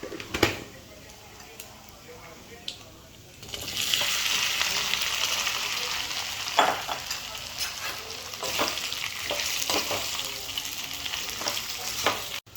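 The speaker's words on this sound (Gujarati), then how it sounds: "હવે 1 ચમચી આપણે તલ નાખીશું." Sesame seeds hit hot tempering oil already holding mustard seeds, cumin and asafoetida for vegetable mudhiya; after a quieter start comes a loud, sustained sizzle with popping crackles, close up.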